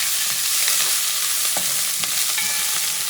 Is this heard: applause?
no